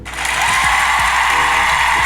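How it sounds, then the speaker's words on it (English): An audience applauds New York Knicks fans in a short burst of continuous, loud, close clapping that swells in quickly and holds steady without talk. "So round of applause for you,"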